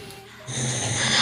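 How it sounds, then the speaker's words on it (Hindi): A sudden burst of steady hissing rain starts after a quiet moment, loud and close, building in intensity. "यहाँ पे देखिए अचानक से बारिश स्टार्ट हो गई"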